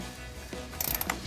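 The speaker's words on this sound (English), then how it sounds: "So we'll take that 10mm socket" A 10mm socket ratchet works loose an upper control arm bracket bolt, giving a short quick run of metallic clicks up close after a brief quiet moment.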